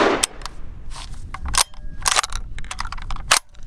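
Several sharp shotgun blasts from an RIA VRF14 shotgun loaded with Winchester Target 7.5 light shells, sounding as loud close reports spread irregularly across the span with short gaps between them.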